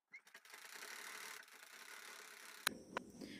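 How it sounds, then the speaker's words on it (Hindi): Sewing machine stitching a folded hem on ladies' pants, a brief close mechanical whir that rises and runs steadily, then two sharp clicks near the end. "तो हम पहले इस पर एक फोल्ड करने के बाद एक सिलाई करते हैं ऐसे।"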